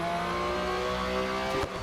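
Race car engines roar continuously during a race in the mobile game Real Racing 3, a steady loud droning whine with a brief dip near the end, no talk over it.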